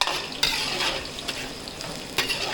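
Garlic and onion sauté in a pan for a catering job, sizzling and crackling close up with steady frying noise and occasional stirring scrapes of a utensil against the pan.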